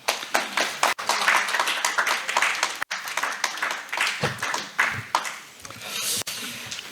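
An audience at a Korean Separated Families Day ceremony claps to welcome a speaker to the podium. Uneven, moderately loud hand claps come in bursts with brief gaps and no speech.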